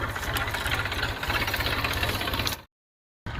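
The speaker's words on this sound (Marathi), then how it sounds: "मॅशी फर्ग्युशन ट्रॅक्टर या ठिकाणी या पहाट्या काढणं सुरू आहे" A Massey Ferguson 7250 tractor engine runs steadily and loud at close range during a harvest, a continuous rumbling drone that cuts off abruptly near the end.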